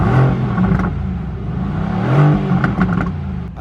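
A Ferrari 458 Pista supercar engine in central London revs loudly and close by, rising and falling in pitch with a rough, raspy roar and some clattering mechanical texture.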